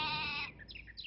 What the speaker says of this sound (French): je te transforme en sheep